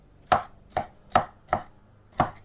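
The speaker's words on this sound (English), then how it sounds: "so you guys can get a view of me chopping up these natural seasonings" Knife chopping green, red and orange onions on a board, five sharp, evenly spaced strokes close up with quiet gaps between them.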